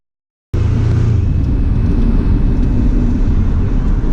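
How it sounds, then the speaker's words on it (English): Chevrolet pickup truck doing a burnout, a loud, close engine roar that starts abruptly after a brief silence and holds steady with heavy low rumble. "Is he okay with the burnout?"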